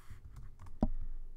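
A short burst of computer keyboard typing: a few light keystrokes followed by one sharper, louder key press, close and brief, with no talking.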